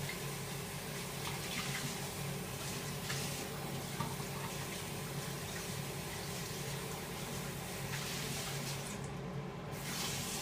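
Tap water runs steadily into a kitchen sink while a bowl is rinsed out, a continuous moderately quiet rushing splash with no speech.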